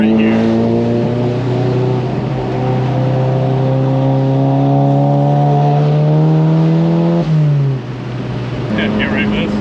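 A tuned VW MK7 with EQT tuning accelerates hard with wheelspin, its engine note climbing steadily in pitch before a brief drop as revs fall, loud and close, heard from inside the car.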